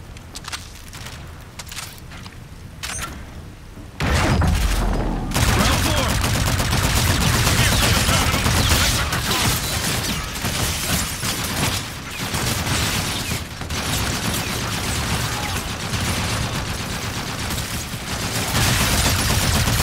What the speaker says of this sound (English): No, they're shooting civilians.